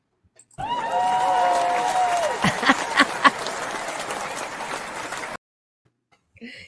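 Sudden burst of audience applause and cheering on a talk show, with a whistle-like tone near the start and a few sharp accents, running about five seconds before cutting off abruptly to silence.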